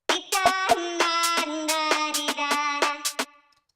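A music beat with its kick drums removed plays, leaving a sustained melodic tone punctuated by sharp, regular percussive hits, stopping after a few seconds.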